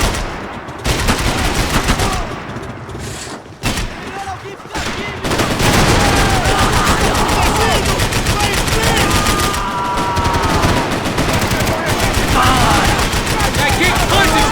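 Dense, loud video-game gunfire from Max Payne 3, rapid overlapping shots and bursts with bullets whizzing past, running almost continuously after a brief quieter opening, with faint voices mixed in.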